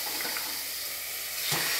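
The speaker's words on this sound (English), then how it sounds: "So I'll be adding some water." Water poured into a hot pan of sautéed ridge gourd curry with moong dal, a steady close sizzling hiss with a brief louder splash and burst of sputtering near the end, no talking.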